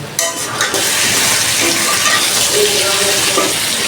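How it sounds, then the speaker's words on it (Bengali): Broad beans and fried potatoes sautéing together in a pan, a steady loud sizzle and stirring hiss filling the whole stretch, with a few scraping stirs near the start. "আলু আর সিম একসাথে কষাবো"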